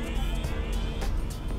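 A C2 Hercules spaceship engine in a space video game, a continuous low rumbling hum with a steady droning tone and no voices over it.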